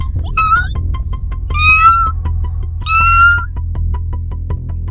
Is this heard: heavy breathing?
no